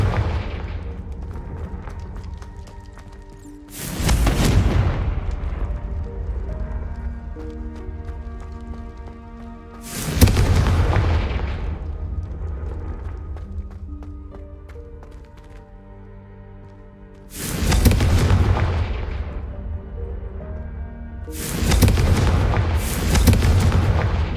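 Spell explosions from the Confringo fire spell in the video game Hogwarts Legacy: four loud booming blasts, each with a sharp crack and a fading rumble, separated by quieter game ambience and music.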